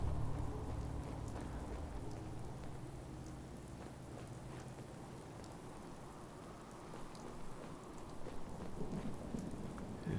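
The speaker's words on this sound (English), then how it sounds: "It is still really dark and rainy out." Steady rain pours in a dark, stormy video game scene, with low thunder rumbling underneath throughout; no one speaks.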